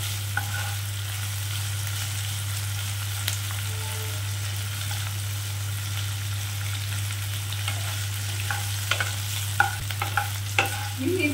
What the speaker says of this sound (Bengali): মিনিট 5 ধরে আমি পেঁয়াজগুলোকে একটু লাল লাল করে ভেজে নেব।